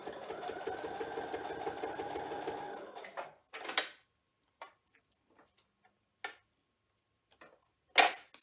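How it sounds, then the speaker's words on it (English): A sewing machine stitches quilt pieces for a double wedding ring block with a steady, fast whirring for about three seconds, then stops. Scattered clicks and handling sounds follow. "Sew two more, take that off of the sewing machine and press."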